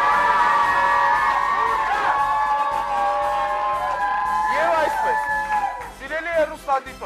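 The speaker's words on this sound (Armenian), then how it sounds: "ձեր ծափահարությունը" A studio audience cheers and whoops for the winning team of a treasure-island game show, loud crowd shouts over sustained musical tones, with a speaker's voice rising in the final seconds.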